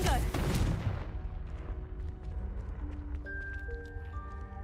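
The Confringo blasting spell goes off in Hogwarts Legacy as a sharp, loud explosive burst, then a rumbling decay with scattered crackling debris and faint magical chimes.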